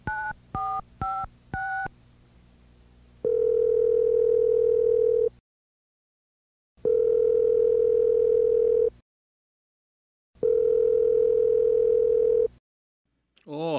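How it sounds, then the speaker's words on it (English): A telephone being dialed, with a quick series of touch-tone beeps followed by repeated long steady tones separated by silent gaps, clear and close. "It's time to call Santa Claus."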